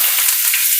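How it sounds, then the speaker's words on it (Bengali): Onions frying in hot oil give a brief, steady, close sizzle with a bright hiss and no talk. "এবার দিয়ে দেবো পেঁয়াজ।"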